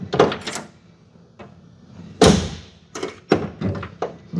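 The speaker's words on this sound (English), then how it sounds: "when we open and close this door, opens really nice. Closes perfect." Heavy steel door of a 1969 Chevrolet Camaro opened and shut several times, close by, with solid latch thunks and clunks spaced across a few seconds in a quiet space.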